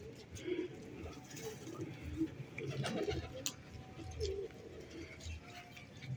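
Pigeons coo softly on a rooftop among kept birds, with repeated low murmuring calls and a few chirps, while someone talks nearby over the outdoor background.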